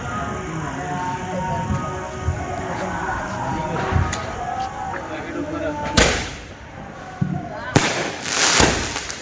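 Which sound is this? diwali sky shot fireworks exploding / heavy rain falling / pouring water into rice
diwali sky shot fireworks exploding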